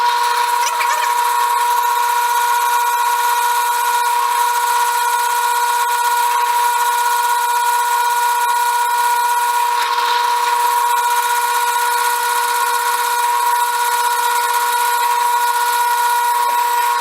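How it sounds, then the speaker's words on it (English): A power drill bores a hole in a straight razor blank, giving a steady, unbroken whine with a bright tonal edge that holds for the whole stretch, close by and with no talking. "pick your hole spot and go ahead and start your drilling"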